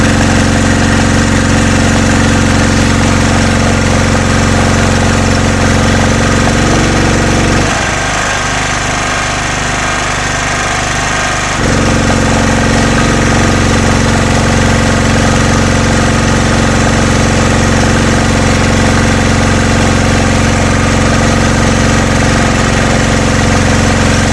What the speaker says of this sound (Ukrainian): це слабий генератор. Такий 2 кВт потолок.